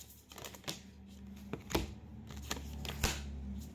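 Tarot cards shuffled by hand in a quiet room, giving a few soft riffling bursts and taps spread over several seconds against a low steady hum.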